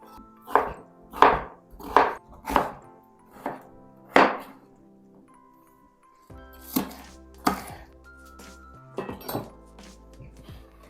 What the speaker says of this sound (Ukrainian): Спочатку потрібно нарізати невеличким кубиком картоплю і цибулю.